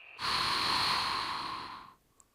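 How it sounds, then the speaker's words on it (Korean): A single long breath pushed out during a stretching exercise, a close, breathy whoosh lasting nearly two seconds before fading, heard alone without talking. "숨을 내쉽니다"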